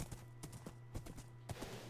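Minecraft horse hooves clip-clop in a quick, uneven run of soft thuds, with a faint steady hum beneath and no talking.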